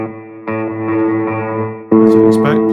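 An electric guitar played through a Line 6 Catalyst 60W combo amp on its plate reverb chime setting rings out in two clean strummed chords with a lush, lingering reverb tail.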